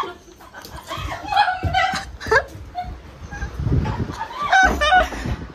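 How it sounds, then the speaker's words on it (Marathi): A domestic turkey at a house gives several short, nasal gobbling calls in quick bursts, close by, while people talk and shoo around it. "टर्की."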